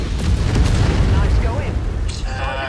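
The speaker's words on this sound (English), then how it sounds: "More artillery." Heavy artillery explosions boom continuously in the MechWarrior 5 video game, a dense, loud rumbling barrage of blasts layered over each other with mechanical game effects, no speech over it.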